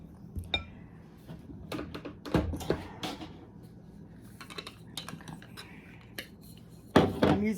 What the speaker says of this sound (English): I'm using my whisk to break the butter into the flour more.